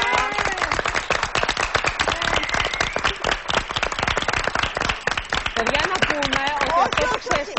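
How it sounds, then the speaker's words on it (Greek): Studio audience applause on a Greek television cooking show, a dense, steady burst of many hands clapping close by, with voices and shouts mixed in throughout. "Να πούμε ότι το χειροκρότημα αυτό το εννοούμε"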